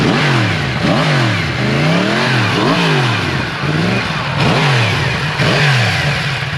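A loud 2020 Yamaha MT-10 motorcycle engine with a cat-delete exhaust revs repeatedly, the raspy exhaust note climbing and dropping in regular surges, close by and with no talking.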